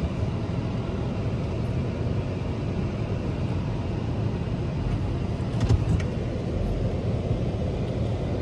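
Inside a moving car, a steady low road rumble and engine drone runs unbroken, with a faint rattling flicker partway through.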